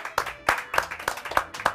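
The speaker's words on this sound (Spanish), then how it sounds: "Aplausos a Cristina Maracaibo" One person clapping for a guest on a Skype call, about six sharp, evenly spaced claps, close and fairly loud.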